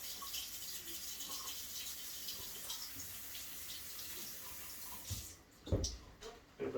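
Faucet water running steadily in a kitchen sink while food is rinsed, a faint continuous hiss ending with a few louder splashes and clunks.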